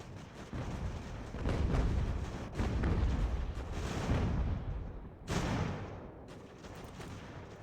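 Heavy artillery fire from the video game Ultimate General: American Revolution, a continuous rumble of overlapping booms and cannon blasts with loud surges and a sharp new volley near the end, with no talk over it.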